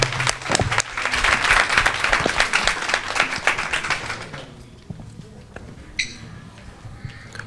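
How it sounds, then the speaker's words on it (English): A community meeting audience in Manchester claps in a loud burst of applause that fades after about four seconds into scattered claps and quiet room murmur. "Just want to give him a round of applause"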